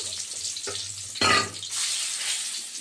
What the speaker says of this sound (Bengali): তেলের মধ্যে শুকনো লঙ্কা আর গোলমরিচ গোটা গোলমরিচ দিলাম